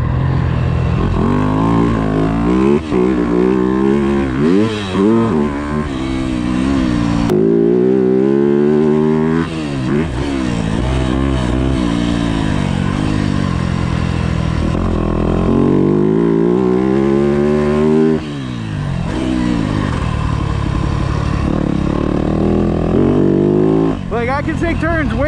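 A Yamaha YZ250F motocross bike rides a dirt track, its engine revving up and down loudly and continuously through gear changes, with a voice speaking over it.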